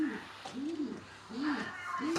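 Domestic pigeons, roller pigeons among them, coo nearby in a repeated rolling rhythm, several soft throaty calls in a row, with light background noise and no clear talk.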